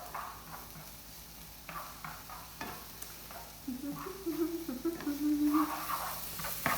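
Onions sauté in a pan with a low, steady sizzle and occasional stirring clinks; the frying grows louder toward the end, with a voice briefly heard.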